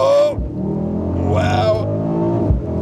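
A 2021 Mercedes-AMG GLS63 at full throttle gives a loud, close engine roar that climbs steadily in pitch, with a brief exclamation from a voice at the start.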